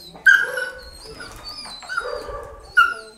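A leashed dog whimpers and yelps in sharp, high bursts, with three loud cries spaced across the stretch and softer whines and low scuffling between them, close and alone.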